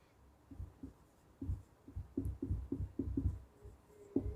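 Marker or chalk strokes on a board during a chemistry lecture for a ninth-grade class, a series of short scratchy taps and squeaks in irregular rhythm, close and fairly quiet, with no talking over them.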